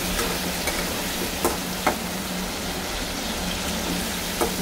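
Cut potatoes frying in oil tempered with cumin seeds, a steady soft sizzle with occasional stirring clicks, alone with no voices.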